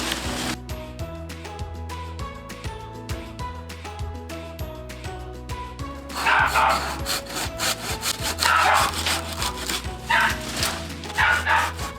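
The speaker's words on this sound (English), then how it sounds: "let me start trimming a few branches" A saw trims branches from a moringa tree in steady rhythmic strokes at close range, with a dog barking repeatedly alongside and the cutting growing rougher and louder in the second half.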